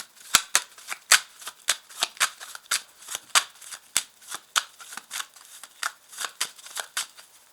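A deck of tarot cards is shuffled by hand up close, a brisk run of crisp riffling snaps and slaps in a loose, steady rhythm.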